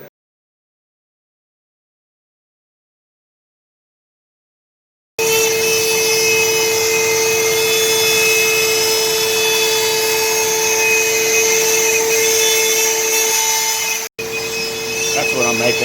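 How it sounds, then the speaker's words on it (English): After several seconds of silence, a power saw cuts wooden box joints for a sled: a loud, steady, whining motor hum held for about nine seconds, with a brief break near the end. "So anyway, so I'm getting ready to cut these box joints for the sled."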